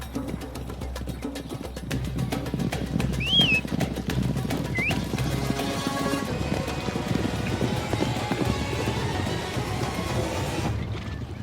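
Hooves pound in quick irregular clip-clop rhythm as horses gallop in a close race ridden by novice riders, a busy, fairly loud stretch with faint whistles or calls above it.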